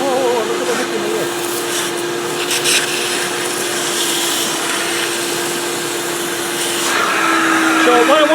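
A Karcher Puzzi 100 carpet cleaner vacuums a seat steadily with a loud whine and a constant hum, its suction roar shifting slightly as it works over the surface.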